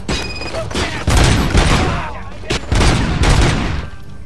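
Robocop's gunfire in Robocop: Rogue City, loud repeated shots in dense bursts with heavy booming impacts, nearly continuous across the stretch.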